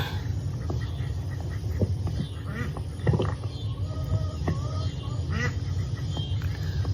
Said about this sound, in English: Our duckies are doing great